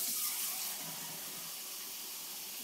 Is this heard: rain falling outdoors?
no